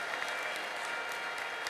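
Church congregation applauding steadily in praise during a sermon, a dense wash of clapping with a few high bursts that may be ululation, filling the room without pause.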